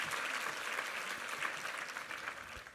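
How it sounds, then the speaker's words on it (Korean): A church congregation applauds the choir after Sunday worship, a steady, even wash of many hands clapping in a large room that lasts the whole stretch without pause. "우리 삼부 성가대 수고하셨는데 한번 격려 박수 부탁합니다."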